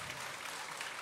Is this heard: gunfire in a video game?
no